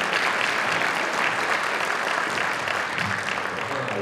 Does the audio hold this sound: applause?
yes